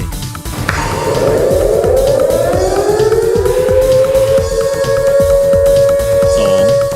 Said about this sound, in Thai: สัญญาณดังยาวต่อเนื่อง คือสัญญาณแจ้งเหตุเพลิงไหม้